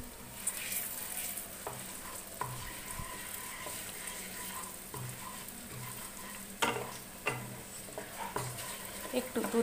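Cloves and chili go into hot oil with a small tejpata leaf and fry with a steady, close sizzle throughout. Spoon stirring and soft scrapes against the pan are heard, with a few sharper clinks near the end.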